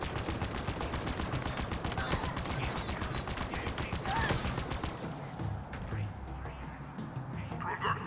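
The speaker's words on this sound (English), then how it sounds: "I'm shooting you in the head" Halo Infinite gunfire rattles in a fast, steady automatic stream for several seconds, then breaks into sparser shots and game noise near the end, fairly quiet overall.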